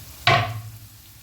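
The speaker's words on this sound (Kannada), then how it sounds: "ನೋಡಿ, ಆನಿಯನ್ ಈಗ ಫ್ರೈ ಆಗ್ತಾ ಉಂಟು." Finely chopped onions hit hot oil in a pan for a chicken gravy, setting off one sudden loud sizzle that fades into a softer, steady crackle.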